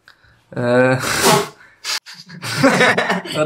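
A sneeze bursts out during a spoken football quiz naming Arab players from the English league, a sharp loud breath-and-burst followed by people talking and reacting.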